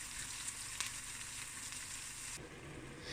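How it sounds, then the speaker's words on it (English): Mixed vegetables sizzle steadily in a hot pan while being stir-fried, a dense continuous frying hiss with a couple of soft stirring taps, quite faint and with no voices. "I'm going to add my vegetables inside this pan, and I'm going to stir fry it"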